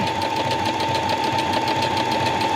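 A domestic sewing machine running a back-and-forth triple stitch along a dress hem, a loud, close, steady mechanical whir with a rapid even chatter of needle strokes throughout, no voices.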